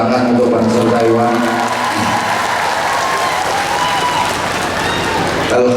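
A crowd applauds the Banser Taiwan at a religious lecture gathering. The applause is loud and steady, with musical or vocal tones running under it and a voice talking over it at times.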